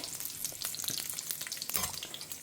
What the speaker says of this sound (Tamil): கடுகு இப்போ பொரிய ஆரம்பிச்சுடுத்து